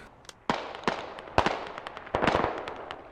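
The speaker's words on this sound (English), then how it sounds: "Airstrike." Airstrike explosions in the video game Squad: a series of sharp, loud blasts arriving irregularly, some close together and others spaced apart, each followed by a short decaying rumble.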